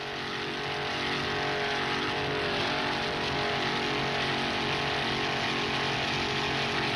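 A 26-foot Corsa offshore powerboat, Flashpoint 810, races in an A-Class offshore Grand Prix off Miami Beach, its engine a steady, loud, continuous roar that holds level throughout with no talk.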